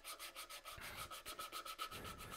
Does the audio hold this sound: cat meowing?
no